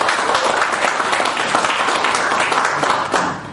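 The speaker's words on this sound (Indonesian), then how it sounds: "kita beri tepuk tangan dulu Pak Ci dan Pak Antonius" An audience at a business discussion event applauds two guest speakers, a loud, even burst of clapping that holds steady before tapering off at the end.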